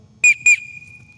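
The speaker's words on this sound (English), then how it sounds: "We'll give our whistle command to get rifle." Two sharp, loud blasts of a whistle sound close together at an air rifle match, each short, the second trailing into a sustained steady tone that fades out.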